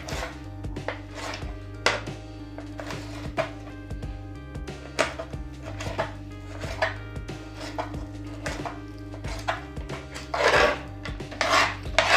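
A knife chopping bitter gourd (karela) on a cutting board for karela bhurji, a steady run of close, crisp cuts at an even rhythm with a few louder knocks near the end.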